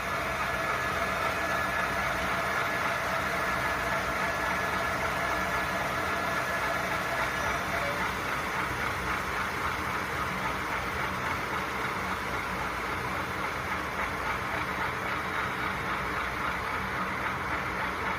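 Rapido Southern Pacific RS-11 model diesel locomotive with LokSound, its steady, fairly quiet engine drone running on continuously while the model coasts at zero throttle.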